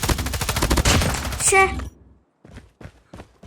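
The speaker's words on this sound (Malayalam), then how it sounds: "ആര് സൈഡിൽ നിന്നൊക്കെ വന്ന് വെടിവെക്കണേ" Rapid bursts of video game gunfire rattle off in a fast volley, then stop abruptly, followed by a few scattered single shots.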